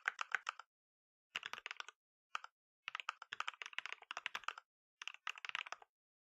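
Fingers typing on a computer keyboard, close and clear, in quick bursts of clicking keystrokes separated by short silent pauses.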